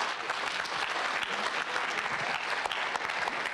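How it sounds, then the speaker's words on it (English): A crowd gives a round of applause for the listening panelists at a Grand Rapids Kidspeak event, a dense, steady wash of many hands clapping at full strength from start to finish with no voices. "another round of applause for our listening panelists today"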